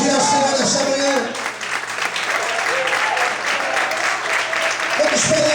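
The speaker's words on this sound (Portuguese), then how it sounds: "Quantos podem me aplaudir ao Senhor nessa manhã?" A church congregation applauds during a Sunday morning service: a sustained, full burst of many hands clapping in a large room, with a voice speaking over it at the start and again near the end.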